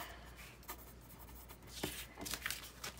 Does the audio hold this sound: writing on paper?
yes